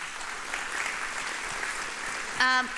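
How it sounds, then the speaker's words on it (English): Applause from a breakfast event audience thanking sponsors and partners, a steady moderate wash of clapping through most of the stretch, briefly broken near the end by a short tonal sound. "let's give a round of applause to everyone"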